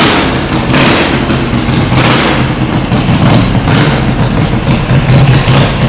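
A Harley-Davidson motorcycle engine running in freezing weather, loud and close, with a rough, thumping rhythm that holds steady throughout.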